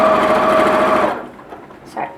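A sewing machine stitching along the edge of a mini bag hums loudly and steadily for about a second, then stops, leaving quieter handling sounds and a voice talking.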